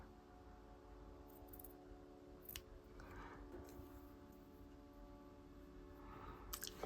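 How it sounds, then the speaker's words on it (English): Scissors snipping a corner off fabric for a ric rac sewing project: a few quiet, brief crisp snips and ticks against faint room hush. "So if I snip off the corner there"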